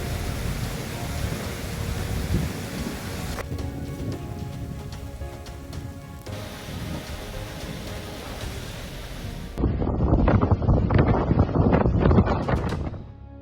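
Heavy rain pours down steadily during a storm in the United States, a dense continuous hiss of downpour. Gusts and harder bursts of rain swell louder toward the end.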